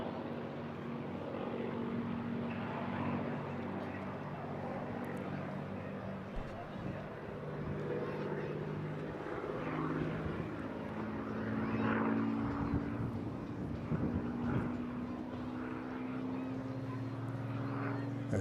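A propeller aircraft flies a display routine at a seaside airshow and runs up for a barrel roll, its engine a loud continuous drone that rises and falls in pitch as it passes, with a commentator talking over it.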